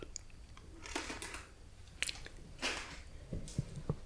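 Trident Splash gum is chewed right up against the microphone, with quiet wet smacks, squishes and sharp little clicks that come in irregular bursts over a soft background hiss.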